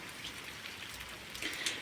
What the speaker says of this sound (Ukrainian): У місті Суми йде дощ.